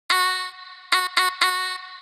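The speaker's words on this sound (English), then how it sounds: "So I just downloaded this one vocal sound off Splice that sounds like this" A single vocal chop sample from Splice, a bright sustained sung tone heard alone as one long note followed by three shorter stabbed repeats.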